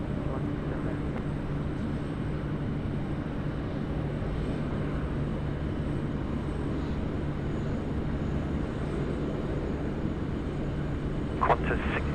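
An aircraft at Sydney Airport gives off a steady, loud, broadband roar that holds evenly throughout, with a brief sharper noise near the end.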